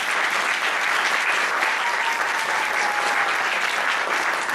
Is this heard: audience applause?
yes